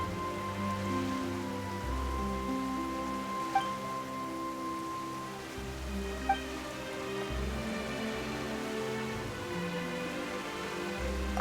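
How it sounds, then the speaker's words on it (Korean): Rain falls in the video game Genshin Impact, a soft steady patter running beneath sustained background music with a few faint clicks and no speech. "갑자기 비가 오네."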